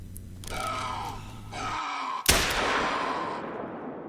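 A single sharp rifle gunshot cracks in theHunter: Call of the Wild in the New England mountains, shooting an animal. The report is followed by a rolling, fading echo after brief low animal-like sounds.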